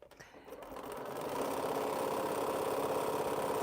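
A sewing machine stitches quilt blocks onto rectangles for a Scattered Stars quilt, ramping up to a fast, steady, close hum that runs continuously.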